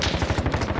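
Rapid automatic gunfire in the video game Call of Duty Warzone, a dense continuous burst of close, loud shots with no pauses.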